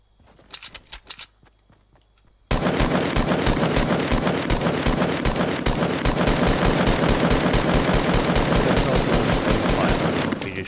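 Continuous rapid minigun fire in the Fortnite video game, loud and sustained for most of the stretch after a few sparse shots and a brief quiet gap at the start.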